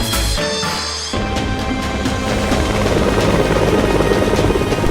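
A helicopter flies through fog in an animated film scene, its steady rotor drone loud and continuous, thickening and growing fuller as it goes on, with no voices.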